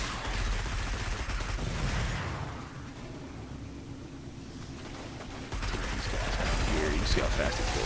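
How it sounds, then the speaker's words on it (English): Rapid automatic weapon fire in the Destiny video game, a dense continuous burst that eases off briefly midway before picking back up, with game effects mixed in. "if you hold down the trigger, they'll start firing a lot slower"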